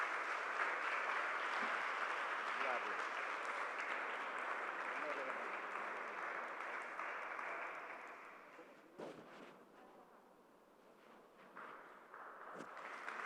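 A church congregation applauds during a service, a sustained wash of clapping that gradually fades and thins out, heard at moderate distance with a few scattered claps toward the end.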